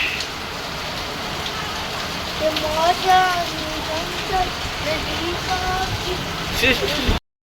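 Heavy unseasonal late-afternoon rain pours in a steady, dense hiss while a person talks over it, voice rising and falling against the downpour.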